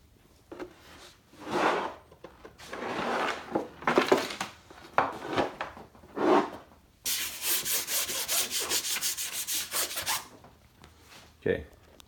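A model surface being wiped down with Windex gives a series of rubbing and squeaking strokes, followed by a fast, steady run of rapid scrubbing, all fairly quiet and close, with a voice talking at times.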